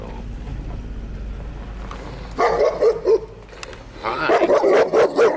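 Two dogs bark repeatedly from near a parking spot on a mountain outing, a cluster of loud barks rising over a steady low rumble of a vehicle.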